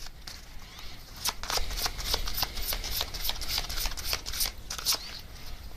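A deck of message cards is shuffled up close, giving a series of crisp, riffling bursts that repeat several times in quick succession against a quiet room.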